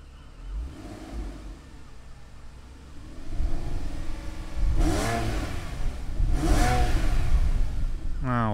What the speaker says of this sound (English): Now that is the sound of a healthy engine.